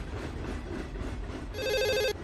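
A telephone bell rings in one short burst of trilling rings near the end, loud and close over a steady low background hum, with no one talking.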